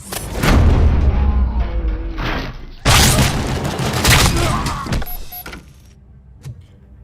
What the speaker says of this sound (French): il y a des coups de feu.